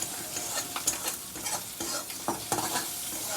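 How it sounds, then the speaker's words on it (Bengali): Pasta mixture stirred with Maggi masala in a hot pan: quick scraping strokes over a soft sizzle, close up, with a few sharper clacks of the spoon and no speech. "এবার আমি ভালো করে এটাকে মিশিয়ে নিচ্ছি।"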